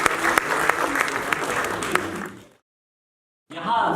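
Audience at a poetry gathering (mushaira) applauding in a steady roar of many hands with some crowd murmur, cutting to a second of silence before the applause resumes just as strongly.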